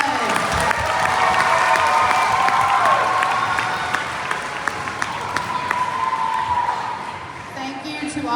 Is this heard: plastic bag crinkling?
no